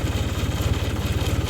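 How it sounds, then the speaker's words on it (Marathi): A tractor engine runs steadily on a farm field, a loud, even low-pitched chug close by with no talk over it. "तर बघू ट्रॅक्टर आज कसं काम करतोय."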